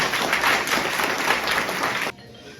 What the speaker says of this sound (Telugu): చప్పట్లు కొట్టండి ప్రియులు.